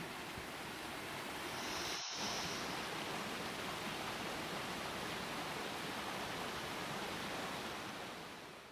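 A small monsoon waterfall in a Darjeeling forest rushes steadily, a constant close hiss of falling water with a brief momentary dropout partway through and no voices.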